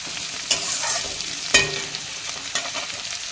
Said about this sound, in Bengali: এবার আমরা কাঁচা পেঁয়াজগুলোকে কড়াই দিয়ে দেব বেরেস্তা তৈরি করতে